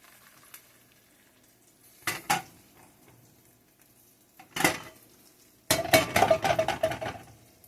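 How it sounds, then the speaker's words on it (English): Homemade gravy is stirred in a pan: a few separate bursts of a utensil scraping and clinking against the metal, then a longer run of rapid stirring clatter near the end, close by over a quiet background. "Just keep on stirring until you want it as thick as you want it."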